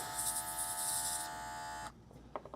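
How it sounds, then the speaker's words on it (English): An air blower clearing out an airbrush nozzle gives a close, steady electric buzzing whine that cuts off sharply near the end. A few faint handling clicks follow. "this is where I would break out the air blower again. I can get it in a nozzle real good, blow that out"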